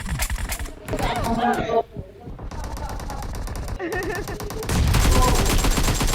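Rapid automatic gunfire bursts in PUBG, a team deathmatch, loud and close and repeated over several seconds, with players talking over the shooting.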